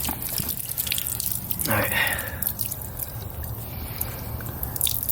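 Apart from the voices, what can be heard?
water backing up in a clogged car heater core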